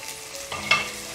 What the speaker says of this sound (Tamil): எண்ணெய் சூடானதுக்கப்புறம் வெங்காயத்தை போட்டுடலாம்.